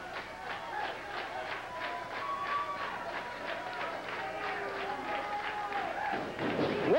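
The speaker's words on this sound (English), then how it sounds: "Listen to this crowd." A 1987 World Organization Wrestling crowd roars and claps at ringside, a moderate, somewhat distant swell of noise with rhythmic hand beats and shouts, under an announcer's commentary.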